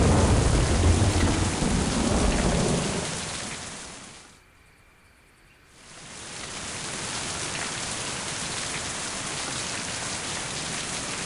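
Steady heavy rain hisses with low rumbling thunder in the video game Mind: Path to Thalamus Enhanced Edition, briefly cutting to near silence midway before the downpour resumes at a slightly softer level.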